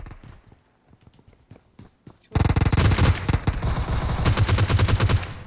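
Rapid automatic gunfire in the mobile battle royale game PUBG Mobile erupts loudly after a couple of seconds of sparse distant shots and footsteps, then sustains dense bursts to the end.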